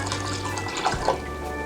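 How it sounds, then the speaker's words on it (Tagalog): Water is poured into a pot of washed glutinous rice for puto maya, giving a soft steady splashing trickle close by with a couple of brief gurgles. "Maglalagay na po tayo ng tubig para mailuto na po natin ito."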